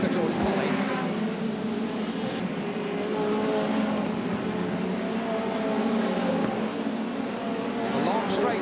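Hot rod race cars powered by early Ford pushrod engines roar past on a circuit at the 1983 Hot Rod World Final, a dense, continuous engine drone under steady commentary.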